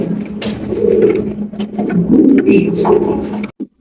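A pair of black Danish pigeons coo in low, rolling bursts, fairly close and steady for a few seconds, with faint chatter and shuffling in the background.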